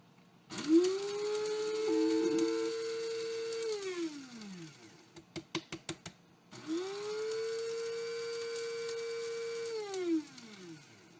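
Dried tomatoes are ground into powder in a blender, with two long motor whirs of several seconds each that spin up and wind down, separated by a few short pulsed bursts, close and clear.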